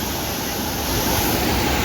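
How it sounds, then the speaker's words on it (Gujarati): Stream water flows at Sasan Gir, a steady broadband rush heard close, with some wind buffeting on the microphone. "આ જોરદાર છે ને આ વહેતું પાણી ઝરણા ટાઈપ"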